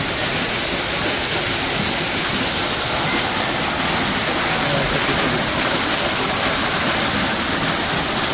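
Loud, constant rushing roar of water from a man-made waterfall at Central Park Zoo, a dense steady wash of sound heard close up without pause or speech.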